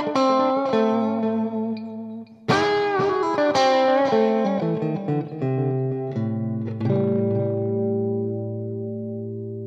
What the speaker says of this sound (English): now I will put in some delay maybe, and then let's hear what it will sound